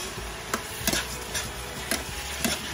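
Sayote cooking with egg and paprika in a pan is stirred, with a low sizzle underneath and several distinct spatula scrapes and clicks at irregular intervals, close up and with no talking.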